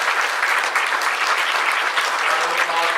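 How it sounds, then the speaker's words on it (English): Audience applauding for author Charlaine Harris at the C2E2 convention: dense, sustained clapping from a large crowd, steady and loud throughout with no pauses. "Round of applause for Charlaine Harris"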